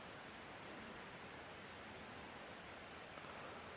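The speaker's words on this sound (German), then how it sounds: "Und im Moment höre ich hier eigentlich nur das Wasser rauschen." Steady, broadband rushing of water from a nearby stream in the Angerbachtal near Ratingen, Germany, constant and even throughout with no voices.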